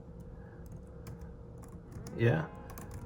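Clicky typing on the cramped keys of an Apple Magic Keyboard for an 11-inch iPad Pro (2020), a quick scatter of light taps, close but faint, with a brief spoken word partway through.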